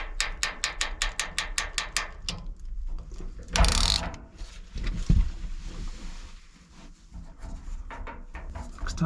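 A new PEX crimping tool ratchets in a fast series of clicks at the start. A loud metallic crunch follows as the ring on the PEX pipe is crimped, then softer handling clanks and more clicking, during work on an off-grid rainwater shower.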